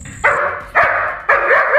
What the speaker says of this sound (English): the dog keeps barking, probably waking up the whole neighborhood